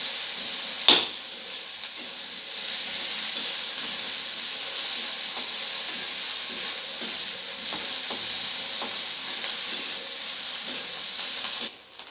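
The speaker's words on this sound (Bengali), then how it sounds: "হালকা ব্রাউন করে ভেজে নেব চিংড়ি মাছটাকে।" Dried shrimp fry until lightly browned in a hot pan, giving a loud, steady, close sizzle with occasional clicks and stirring scrapes and no voices.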